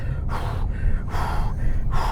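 A voice imitates heavy, excited breathing: three loud, rasping gasp-like breaths in a steady rhythm, close to the microphone, with no other talk.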